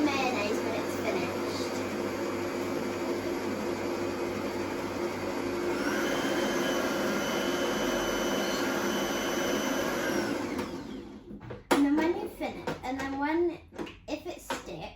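An electric mixer beating butter for vanilla cupcakes, a loud steady whirring drone lasting about eleven seconds, then stopping as a voice talks over light handling noises.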